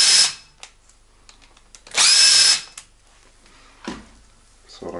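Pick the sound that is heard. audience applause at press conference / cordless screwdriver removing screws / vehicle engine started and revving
cordless screwdriver removing screws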